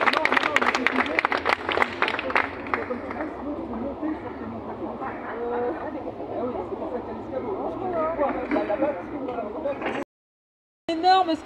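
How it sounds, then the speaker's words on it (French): A crowd at a workers' demonstration breaks into loud clapping that thins into scattered applause and chatter, with voices over it throughout, then cuts out briefly near the end. "je vous demande de les applaudir"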